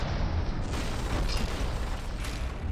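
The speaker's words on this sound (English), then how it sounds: "Oh, we're actually hitting with torpedoes as well." Torpedo hits and explosions tear into warships in the naval combat game From the Depths, a continuous dense rumble of booms and bursts that stays loud throughout with no voices.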